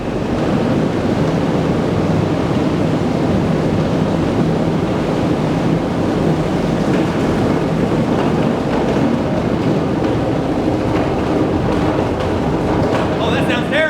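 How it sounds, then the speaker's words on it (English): Water rushing through a turbine deep inside Greers Ferry Dam, a loud, steady broadband roar that holds without break, with voices faintly under it. "I promise that's water moving through the turbine."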